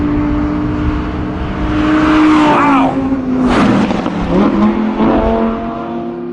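An Audi R8 V10 plus with a seven-speed dual-clutch gearbox revs hard and accelerates on a race track, its engine note rising and dropping through gear changes up close, with a brief exclamation from a person over it.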